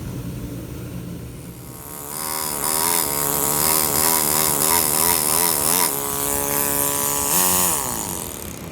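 A power tool carving a marble cross, a loud close whining grind that rises and wavers in pitch for several seconds while the cutter works the stone, with no voices.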